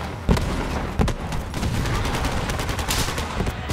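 A cryo weapon fires in the video game Borderlands: sharp, close gunshots, two distinct cracks early on, then a sustained stream of rapid shots, with no one talking.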